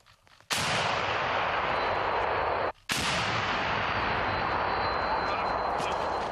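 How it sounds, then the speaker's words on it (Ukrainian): Artillery gun firing two loud, close blasts on a front-line forest position, each a sharp boom followed by a long, roaring broadband decay, with a brief gap between the shots. "Постріл!"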